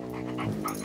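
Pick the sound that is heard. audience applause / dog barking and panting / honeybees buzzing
dog barking and panting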